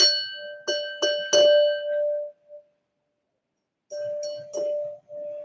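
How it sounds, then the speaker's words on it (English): A glass struck several times, each tap giving a clear, ringing bell-like tone that decays quickly; a first cluster of strikes, a pause, then a second group of strikes. "if you hit the glass anywhere, would it be the same sound?"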